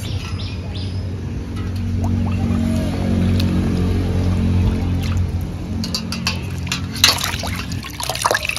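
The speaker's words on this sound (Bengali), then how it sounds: "পরিষ্কার পরিচ্ছন্ন করে ধুয়ে নিচ্ছি।" Water splashing and trickling steadily as bloody hilsa fish pieces are washed by hand, with a few louder sloshes and drips near the end and faint birdsong in the background.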